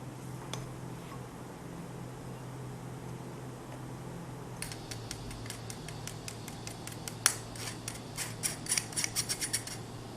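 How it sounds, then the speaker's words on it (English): Flour sifted into a mixing bowl for a peach cream cake, heard as a quiet run of quick, evenly spaced ticking clicks from the sifter over a soft room hiss. "Sift the flour into the bowl."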